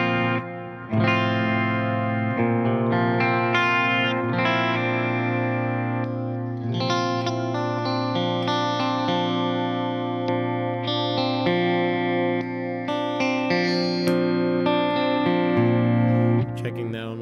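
Clean electric guitar tone with added reverb, sustained chords and ringing notes played steadily throughout with a lush, washy tail and no pauses.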